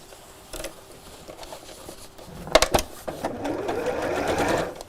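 Sewing machine stitching across the fabric side of four quilted foam-backed pieces for a tie top tray, a steady mechanical whirr with brief louder bursts partway through, heard close and alone.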